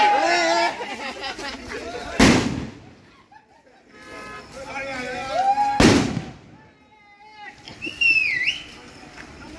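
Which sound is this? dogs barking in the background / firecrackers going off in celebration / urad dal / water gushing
firecrackers going off in celebration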